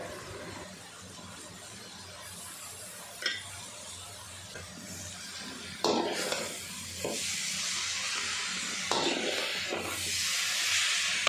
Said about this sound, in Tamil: இதுவுமே வந்து நம்ம நல்லா அந்த மசாலா கூட நல்லா சாட்டே பண்ணிக்கலாம்